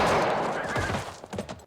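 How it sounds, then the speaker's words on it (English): A loud burst of Western gunfire from the film Young Guns II, several rapid overlapping shots and thuds crowding a brief moment close up. "when I go for my guns, you start shooting."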